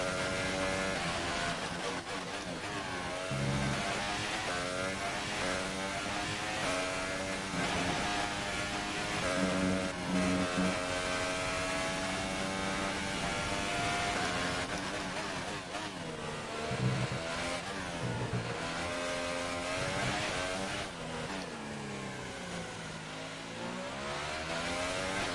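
A Formula 1 car engine in the F1 2018 racing game screams continuously at high revs throughout, its loud, steady whine rising and dipping slightly with gear changes and throttle.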